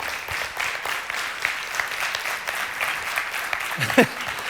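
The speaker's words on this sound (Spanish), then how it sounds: "Un aplauso al Señor, ¿cómo no?" A church congregation applauding, dense clapping from many hands sustained throughout, with a brief vocal exclamation near the end.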